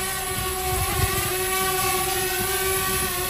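Steady, loud whirring of small DJI Mini drone motors with a constant high-pitched tonal whine and rumbling wind, continuous throughout with no voices.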